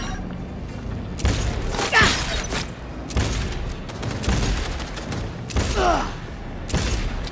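Shotgun blasts and explosions in Cyberpunk 2077 (Phantom Liberty), several loud booming shots and bursts spaced a second or two apart over dense combat noise, close and forceful.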